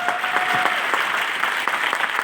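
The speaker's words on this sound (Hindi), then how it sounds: "जोरदार तालियां दोस्तों, म्यूजिक के साथ" Audience applause for a guest called onto the stage at an awards event in Jabalpur, a dense, steady wash of clapping from a large crowd, loud and continuous throughout.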